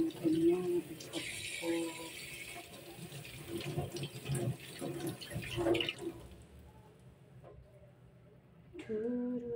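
Water runs steadily from a tap through a new water purifier filter set on a kitchen counter to flush it, a close splashing stream with a voice speaking over it before the flow drops off near the end.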